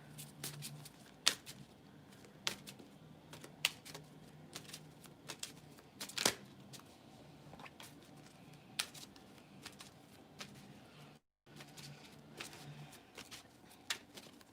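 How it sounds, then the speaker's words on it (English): Tarot cards are shuffled close by, soft riffling and sharp tapping bursts repeating irregularly at low volume, with no talking. "TB, let me shuffle these cards."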